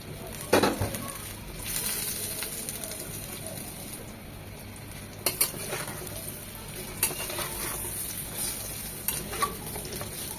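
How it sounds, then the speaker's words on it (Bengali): Moringa drumsticks sizzle steadily in hot oil in a pan for a Bengali chachchari, with several sharp clanks and scrapes of a stirring spoon breaking through the close, continuous frying hiss. "এই তেলেই সজনে ডাঁটাগুলো 2 থেকে 3 মিনিট ভেজে নেব, ঠিক আলুর মতো।"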